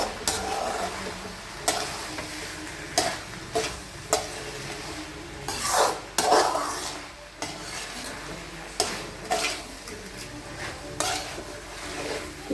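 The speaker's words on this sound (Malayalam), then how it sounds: "ഒന്നുകൂടെ നന്നായി ഇളക്കാം." A spoon scrapes and stirs broad bean and pumpkin thoran in a pan, with irregular knocks against the metal and a soft sizzle underneath, close and fairly quiet, with no talking.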